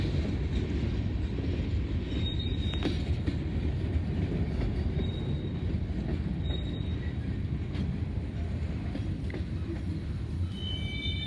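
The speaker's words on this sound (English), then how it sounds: "really long freight drag here is clearing the diamond finally." Long freight drag rolling through a railroad diamond crossing in Greenwich, Ohio: a steady, loud rumble of wagons passing close by with faint wheel squeals, continuous for the whole stretch.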